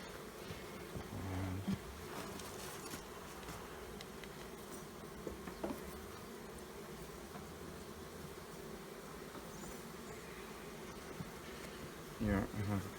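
Honey bees hum faintly and steadily around an opened beehive during an early-season frame inspection, with occasional soft knocks and rustles of frames being handled nearby.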